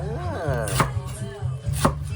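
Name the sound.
knife chopping cabbage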